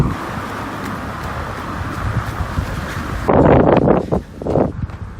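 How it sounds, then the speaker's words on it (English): Strong wind buffets the microphone on a beach as a steady, loud roar, then surges into heavier gusts that rumble and fade unevenly near the end. "it's too windy for the beachgoers"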